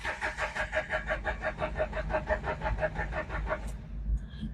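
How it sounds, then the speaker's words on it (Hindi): Car engine cranking over and over without starting, an ECM fault suspected, a rapid rhythmic churning of the starter that runs on for several seconds, close and loud, then stops. "गाड़ी स्टार्ट नहीं हो रही है और बहुत ज्यादा लंबा सेल्फ ले रही है।"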